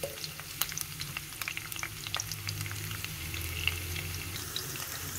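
Onions fry in hot oil for a black masoor dal and spinach dish, a steady close crackling sizzle with scattered pops and faint tapping throughout.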